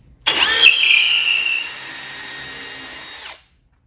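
A Ridgid cordless drill with a half-inch bit bores all the way through fresh wood, starting with a loud whining burst that settles into a steady grinding drone for about three seconds before cutting off abruptly.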